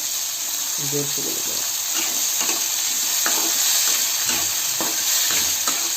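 Garlic paste and tomato fry in a pan for a soaked mukani bean palya, with a continuous sizzle broken by scraping stirs and short bursts of nearby voice and clatter.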